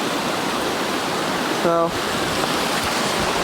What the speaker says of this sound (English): Got a beautiful waterfall up there.